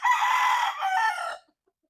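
A seven-month-old Gilliam Roundhead gamecock stag crows once, loud and close, in a single drawn-out call of a bit over a second that breaks off abruptly into silence.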